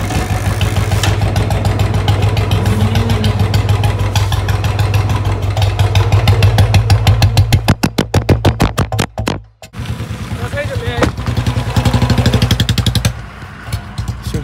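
A Royal Enfield Bullet motorcycle engine starting up on a freshly charged battery and running, its steady thumping idle loud and close throughout, with a brief dip and a fresh pulse of revving near the end.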